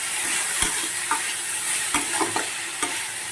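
Ridge gourd frying in a pan for a poppy-seed dish, a constant loud sizzle broken by several light knocks and scrapes of a stirring spoon.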